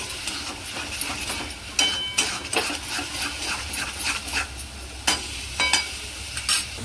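Homemade masala sautéing in oil, stirred steadily as it cooks down; a continuous sizzle runs throughout, broken by repeated scraping strokes, close and fairly loud, with no voices.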